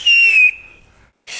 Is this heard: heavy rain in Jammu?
no